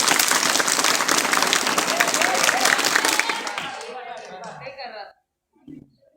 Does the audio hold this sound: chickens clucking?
no